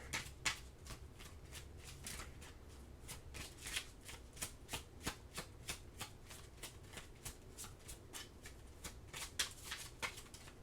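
Oracle cards shuffled by hand, a quick run of crisp riffling flicks in a steady rhythm, close and fairly quiet, with no talking.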